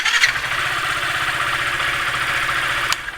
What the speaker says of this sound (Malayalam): കണ്ടോ ജസ്റ്റ് ഒന്ന് സെൽഫ് ബട്ടൺ മാത്രം നിൽക്കുക നമുക്ക് വണ്ടി ഓണായി കിട്ടും